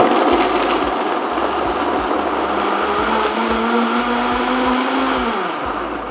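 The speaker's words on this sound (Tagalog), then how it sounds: "Yan, at start na natin na i-puree." A blender pureeing boiled pork liver, a loud, steady motor whir that runs close and continuous, its pitch shifting slightly as the mixture thickens.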